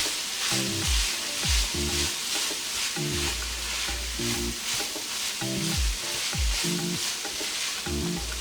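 Celery and mushroom fry in a pan for Ghanaian meat pie filling under a loud, steady sizzle. A spoon stirs repeatedly in a regular rhythm over it, and low tonal music plays in the background.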